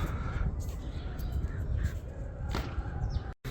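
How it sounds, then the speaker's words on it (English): Crows cawing atop a mosque, a few harsh calls breaking through a steady outdoor rumble of wind and distant traffic. "I think they're crows at the top of the mosque."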